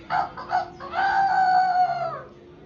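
A person imitates a rooster crowing, a short two-part lead-in followed by a long drawn-out cock-a-doodle call, close and loud, alone without other talk.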